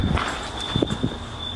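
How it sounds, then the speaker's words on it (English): Footsteps in a scary setting, a few soft thuds spaced irregularly against a steady background hum with a faint tone. "he hears footsteps"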